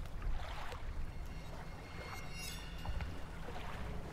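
A boat moves across open water in the fishing horror video game DREDGE, with a steady wash of water and engine rumble plus a brief high tone partway through. No voices.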